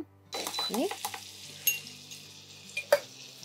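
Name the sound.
butter added to hot mustard oil in a pan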